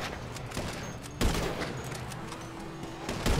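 Rapid gunfire rattles in GTA 5 Online: a sustained volley of close, sharp shots with a few heavier cracks punctuating the burst over a few seconds.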